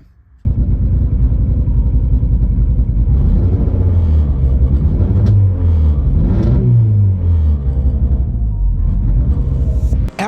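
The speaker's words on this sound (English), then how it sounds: "After getting the car to start up for the first time" A turbocharged Chevy Cruze engine fires up and settles into a loud, steady idle with a deep rumble and slight fluctuations in pitch, heard up close for about ten seconds.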